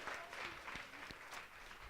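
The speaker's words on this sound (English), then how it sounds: "Okay, so let's give a round of applause." Audience at a healthy cooking workshop held at Borough Hall applauds, a steady wash of clapping from a moderately distant crowd that lasts throughout with no talk.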